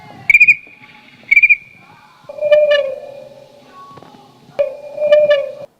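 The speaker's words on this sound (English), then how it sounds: "That sound you just heard is beautiful. It's frogs that are very happy." Repeated whistling, chirping calls ring out in bursts, some sharp and high, others lower and warbling, alternating across a quiet background like calling frogs.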